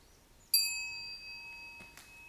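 A bell struck once during a Sunday service at a Zen monastery rings out with a clear metallic strike and a long, shimmering decay, heard alone in a quiet room with a faint knock near the end.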